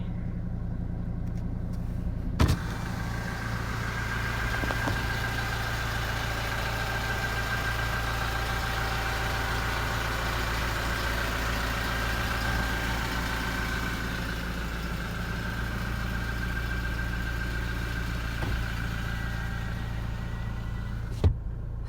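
Manual transmission car engine idling steadily while reversing, a low continuous hum with a faint tonal whine, quiet and close, with a couple of brief clicks or knocks.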